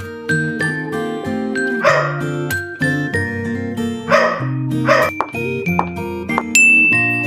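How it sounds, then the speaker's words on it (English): A couple of dog barks ring out over a bright, tuneful music track with plucked, bell-like notes. "Dog."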